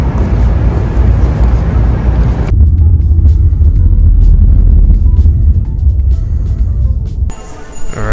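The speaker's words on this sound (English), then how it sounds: "About a 30-minute car ride." A taxi car rides along the road toward the airport, its steady low engine and road rumble heard from inside the cabin, loud and continuous with a brief shift near the end.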